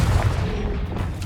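In the Hogwarts Legacy video game, a Confringo fire spell explodes as a single short boom with a deep low thump that quickly fades.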